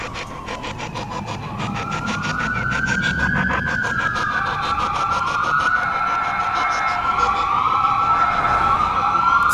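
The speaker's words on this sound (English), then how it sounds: "Sirens, guys." A wailing emergency siren rises and falls steadily, loud and continuous, over a dense rumble of traffic.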